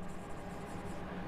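Handwriting during a maths lesson on permutations and combinations makes a continuous close scratching across the writing surface, steady and unbroken for the short stretch.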